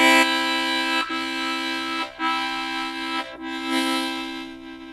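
Harmonica playing a 1-2-3 blow chord, the sustained chord broken into four separate attacks by alternating tongue articulations, close and loud with brief gaps between notes.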